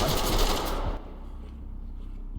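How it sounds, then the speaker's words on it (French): Gunfire in the tactical shooter Ready or Not rattles as a loud dense burst for about a second, then cuts to quiet background with a faint distant pop. "On prend des tirs!"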